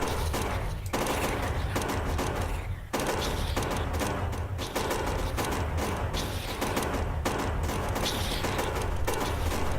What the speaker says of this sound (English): I'm firing on this base here